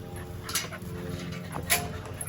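Puppies on a farm in hot weather whimper and whine in short high cries, with soft panting and shuffling between them, fairly close by.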